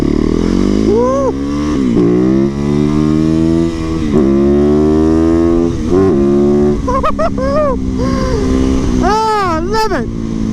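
A 450 Supermoto motorcycle engine revs close by, pitch rising and falling through repeated throttle blips, growing sharper toward the end.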